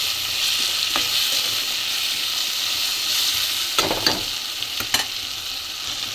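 Potatoes fry in a pan with salt for hotel-style potato palya, a dense, even sizzle close by, punctuated by a few louder scrapes and clatters of stirring toward the end.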